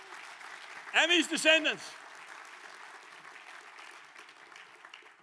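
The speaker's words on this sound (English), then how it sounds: "Come on, let's give the Lord a clap, folks." A large audience at a gospel concert gathering in South Africa breaks into sustained, even applause after a man's short spoken phrase, the clapping continuing as a broad wash.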